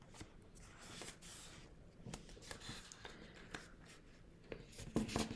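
Paper being folded over into a triangle for a cut-paper snowflake, giving soft crinkling and rustling with a few sharper creasing swipes, close and fairly quiet, with no talking.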